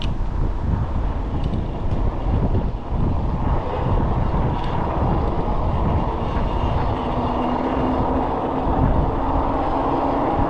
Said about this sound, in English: Riding right into that wind.